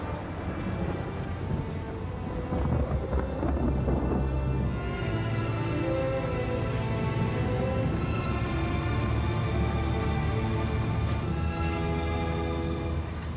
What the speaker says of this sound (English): Are you frightened of lightning, Elizabeth?